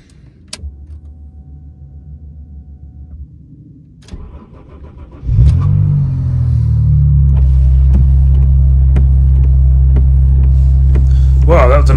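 An MG ZS 180 car, with a quiet idle-like hum and small clicks, then a short crank as the engine catches and settles into a strong, steady low rumble, with occasional ticks and a rattle near the end.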